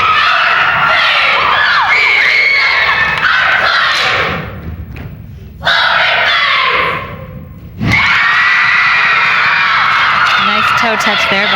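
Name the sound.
crowd of fans cheering at a high school cheer final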